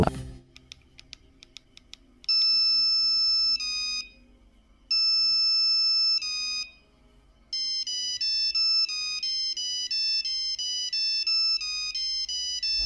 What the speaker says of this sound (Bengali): তখনকার সব থেকে পপুলার মোবাইল ফোন নোকিয়ার ফোনেও এর রিংটোন দেওয়া ছিল